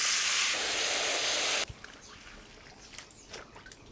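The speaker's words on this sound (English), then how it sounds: "I'm just going to fill it up with some water." Water poured from a tap into a tray to soak raffia for bonsai work, a loud, steady hissing rush for under two seconds that cuts off abruptly, leaving faint room noise.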